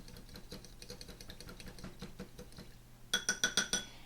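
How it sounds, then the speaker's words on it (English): Golden flaxseed meal and water stirred in a small dish for a vegan cookie recipe: soft, faint scraping and patter, ending in a quick run of brighter clinks of utensil against the container. "Give the two a nice stir."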